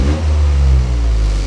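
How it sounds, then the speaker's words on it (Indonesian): A loud, deep Toyota GR Yaris engine with an aftermarket exhaust revs hard, the rumbling, bassy exhaust note sustained and close, no voices. "Deruman knalpotnya itu lebih jelas terdengar dibandingkan knalpot standar GR Yaris."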